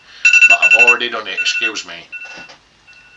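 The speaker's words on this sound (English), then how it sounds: "That's my alarm to put my drops in" A phone alarm sounds as a reminder to put in eye drops, a bright repeating electronic beeping tone, close and loud, with someone talking over it briefly before it cuts off.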